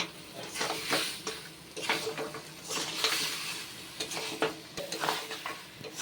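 Boiled mutton legs stirred and fried with masala in a pan, a steady sizzle broken by repeated scraping strokes of a spoon against the metal, close and fairly loud, with no voices.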